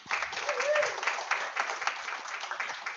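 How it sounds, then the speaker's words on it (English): Audience applause at a community meeting, steady clapping from a room full of people lasting a few seconds at moderate loudness, with some voices mixed in underneath. "So another round of applause to Hamza, being our youngest member."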